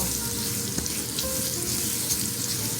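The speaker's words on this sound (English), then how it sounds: "add our 3 minced garlic cloves, and we're going to let that saute" Three minced garlic cloves sautéing in a pan for a creamy lemon pasta, a steady close sizzle with light crackle throughout, no voices.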